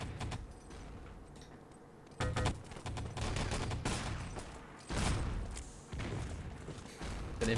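Rifle gunfire in a competitive online shooter match, a dense run of rapid shots and thuds, loud and continuous with short bursts, under the rapid voice of a commentator.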